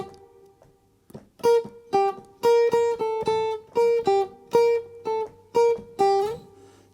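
A jazz guitar plays a single-note line with a syncopated Afro-Cuban montuno-like motif, with short repeated plucked phrases in a bouncing rhythm, clear and close, after a brief pickup.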